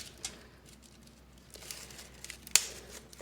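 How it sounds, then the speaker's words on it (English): Plastic crinkles and crackles in short, scattered bursts as a plastic orchid pot is cut open around overgrown roots, ending in one sharp snap near the end; close, fairly quiet, with no voices. "I'm gonna cut the inner core and then try to cut the outer core to free these orchids up"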